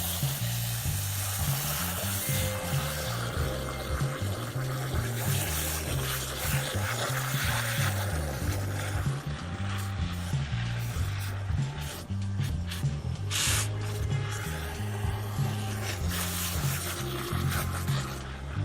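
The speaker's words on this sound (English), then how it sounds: "I'll take a hose sprayer on jet setting and just get down in there and really blast it" A hose sprayer on jet setting blasts dirt from a Rain Bird Maxi-Paw 2045A sprinkler, hissing and spraying steadily against a hard surface, a dense continuous roar with shifting spatter as the stream moves.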